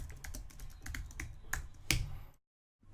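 Swift commands being typed on a computer keyboard at a macOS terminal: a run of close, crisp key clicks in an irregular rhythm, ending in one sharper keystroke before a brief silence and more faint tapping.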